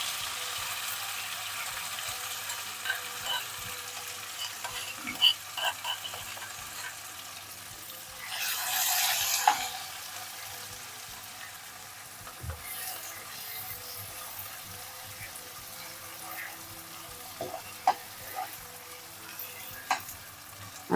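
Mashed tempe sambal stir-fried in hot oil, a steady close sizzle and crackle with a louder hissing burst midway and occasional scrapes of the spatula, no voices.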